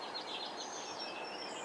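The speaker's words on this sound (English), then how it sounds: "Hear the birds." Faint bird chirps and tweets come from outdoors during a tornado warning in Indianapolis, scattered over a steady, broad background hiss.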